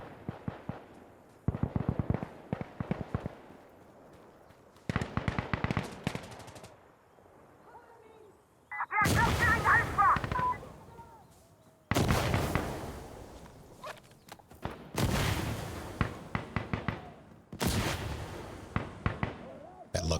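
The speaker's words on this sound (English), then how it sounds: "I hear bullets whipping by me" Loud bursts of automatic gunfire crack in Insurgency: Sandstorm, arriving in separate volleys with near-silent gaps between them, some sharp and close, others thinner.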